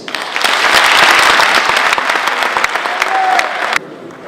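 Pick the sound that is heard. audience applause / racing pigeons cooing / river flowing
audience applause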